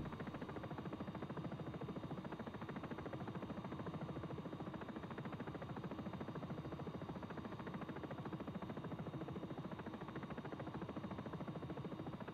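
A steady, unbroken helicopter engine and rotor drone from the X-Plane 11 flight simulator, a dense constant buzzing hum at low level with no voices over it.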